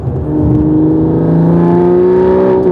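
Toyota Supra A90 engine fitted with an AWE carbon fiber intake and AWE exhaust, a smooth steady whirring drone that rises gently in pitch as it revs, loud and close with no talking.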